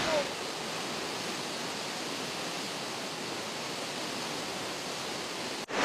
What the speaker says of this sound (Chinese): 那就是全国唯一的城市瀑布——野水河瀑布。